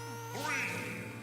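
A short duck quack, a single bright call rising over a steady hum in Super Smash Bros on a stage.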